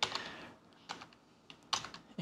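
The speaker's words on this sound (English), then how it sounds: "where now we're printing three keys for every one that we type" Computer keyboard keys are typed through an effects pedal that multiplies each keystroke, giving sparse clicky bursts with a processed, smeared tail, quiet and isolated with no speech.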